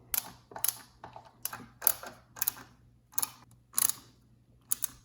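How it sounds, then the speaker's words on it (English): A ratcheting screwdriver tightens bolts on a standing desk leg, giving short bursts of sharp clicking ratchet strokes separated by brief pauses; close and clear, with no talking. "So now we're going to tighten all 4 bolts, which includes the 2 that I added"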